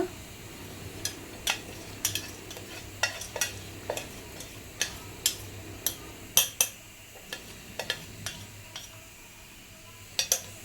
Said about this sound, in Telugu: ఇట్లా గరిటితో కొంచెం కొంచెం తిప్పుతూ ఉండాలి